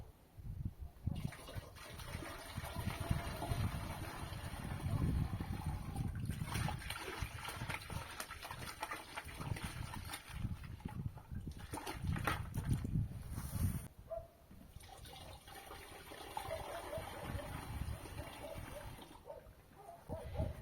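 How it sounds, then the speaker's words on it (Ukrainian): A green-turquoise spray solution pours into a garden sprayer tank for early-spring treatment of trees and shrubs, a steady trickling and splashing of liquid that runs for most of the stretch with a few brief pauses. "Також вливаємо його в оприскувач."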